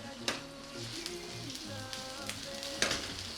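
Minced meat sizzles in a pan with chopped onions and garlic, a steady frying hiss with scattered sharp crackles and occasional spoon scrapes, close and moderately loud, no voices.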